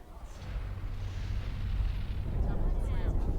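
Deep, rumbling missile explosion in a Command & Conquer Tiberium Wars cutscene, building into a heavy low boom that rolls on for several seconds without letting up.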